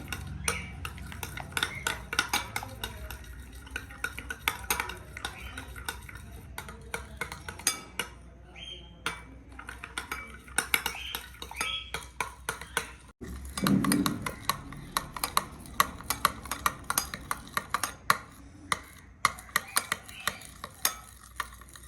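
A homemade face pack mixture with turmeric being beaten in a bowl, with repeated scraping and clinking of a utensil against the bowl, close and fairly steady.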